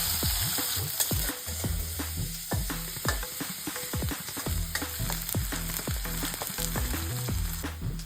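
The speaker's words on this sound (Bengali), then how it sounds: "দুটো শুকনো লঙ্কা ফোড়ন, কারি পাতা, তারপর যাবে পেঁয়াজ" Dried chillies, curry leaves and onion sizzle in hot oil for a fish curry, with a dense, constant crackle while a spatula scrapes and knocks against the pan in a rough repeating rhythm.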